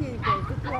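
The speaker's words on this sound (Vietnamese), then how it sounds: "À, chó xù." A shaggy dog at a busy market gives a short yip and whimpering bark amid loud crowd chatter and people talking close by.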